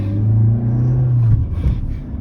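A Fiat Siena that has stood unused for three months pulls away: a loud, close engine rumble holds steady, then rises and churns as the car sets off. No voices are heard.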